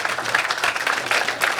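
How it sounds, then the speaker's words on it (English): Stand-up comedy club audience applauding, a dense, steady wash of many hands clapping at moderate distance with scattered whoops, sustained without a break. "It's nice we can come together and clap for prison labor."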